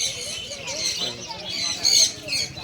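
Pigeons at a busy pigeon market, with faint chirps and coos mixed into the crowd noise while people talk nearby.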